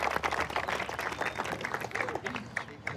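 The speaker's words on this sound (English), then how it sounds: "Let's give him a great round of applause." A crowd claps and applauds continuously at moderate volume for an award recipient, a dense patter of hands with a few voices mixed in.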